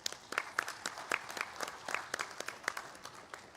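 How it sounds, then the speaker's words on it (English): Audience applause at the inaugural session of the India Mushroom Summit 2023, heard as a modest run of separate, distinct claps at a fairly quiet level with no talking over it. "Please give them a huge round of applause."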